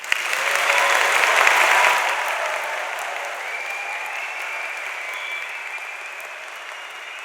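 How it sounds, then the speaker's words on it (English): Audience applause for graduates at a Manchester degree ceremony, a large room of dense clapping that swells loudly over the first two seconds, then settles into a lighter sustained patter. "giving all our amazing graduates a huge round of applause"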